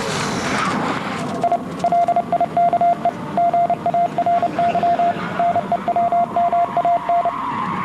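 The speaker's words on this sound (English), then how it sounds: "More Morse nonsense there to excite the internet." Rapid Morse code beeps in a steady high tone, dots and dashes in broken rhythm, over a continuous low engine-like rumble from a Tesla Roadster on a road test.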